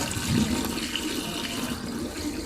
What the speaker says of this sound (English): you can just pour the dirty water right into the sink